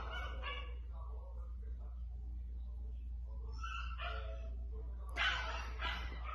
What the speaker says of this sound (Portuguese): esse cachorro tá se esgoelando